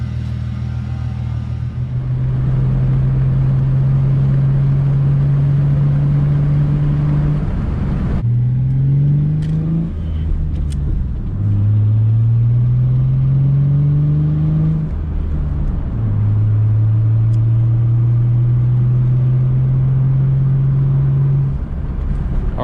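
A six-cylinder car fresh from an oil change drives steadily, its engine rumbling and rising through a series of rev climbs and gear shifts, heard from inside at close range with no talking.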